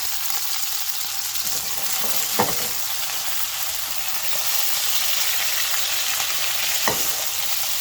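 Sesame chicken pieces fry on a stove in hot oil, a loud, continuous bubbling hiss close up with a couple of faint clicks, no voices.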